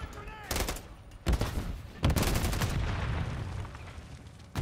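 Bursts of automatic gunfire crack out in a first-person shooter game, loud and close, with several separate volleys and a fading tail between them.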